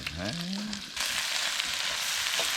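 Onions fry in a pan with a bright, loud sizzle that swells suddenly after a brief voice and then holds steady to the end.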